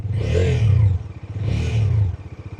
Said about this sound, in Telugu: థ్రాటిల్ ఇచ్చి వదిలేస్తున్నప్పుడు లైక్ చిన్న విజిల్ లాంటి సౌండ్ వస్తుంది